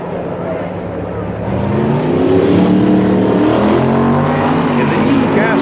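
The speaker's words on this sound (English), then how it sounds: "The Dodge pickup truck was converted to racing and is powered by a 425 horsepower V8." A loud 425-horsepower V8 engine roars steadily as a 1960s Dodge pickup truck converted for drag racing accelerates, its deep rumble building and holding close by.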